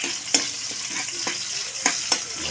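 Onions sauté in a hot pan, a continuous close sizzle broken by a few sharp clacks of a spatula stirring against the pan, no voices.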